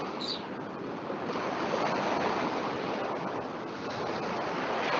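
Ocean waves wash steadily onto a beach, a continuous broad surf roar with gentle swells in loudness and no voices, heard close and fairly soft throughout.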